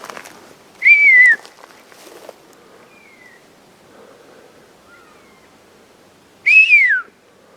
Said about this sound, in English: they're going crazy with whistles